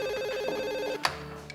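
A telephone rings with a warbling electronic tone for about a second, then stops as the handset is picked up with a clunk, in a quiet indoor setting.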